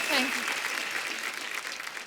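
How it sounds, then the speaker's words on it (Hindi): Studio audience of a Hindi comedy talk show applauding actress Kriti Sanon: a thick, continuous wash of clapping from a large crowd, with a voice briefly heard over it at the start. "एक बार जोरदार तालियां कृति के लिए।"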